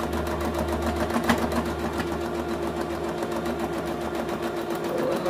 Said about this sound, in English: Now we're going to go sewing all the way around it.